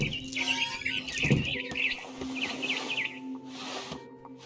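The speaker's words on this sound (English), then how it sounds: "Then I heard chirping outside my window. It was a barn swallow going back to her nest." A barn swallow chirps in quick, repeated twittering bursts over a faint background hum in the video game What Remains of Edith Finch, fairly close but not loud.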